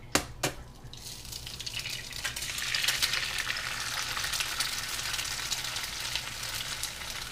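Ginger, garlic, chili, mirin and soy sauce sizzle and bubble in a hot pan with softening onions, opening with a couple of sharp clatters, then a dense, steady crackle close by.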